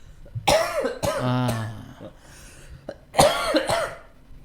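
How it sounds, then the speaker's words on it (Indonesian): A person coughs several times in short, harsh bursts, with brief pauses and a throat-clearing sound between them, close and fairly loud. "Saya boleh batuk."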